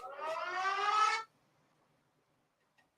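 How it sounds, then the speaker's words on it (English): An alarm siren sound bite, a single rising wail that holds loud for about a second and then cuts off abruptly into near silence. "Sound the alarm."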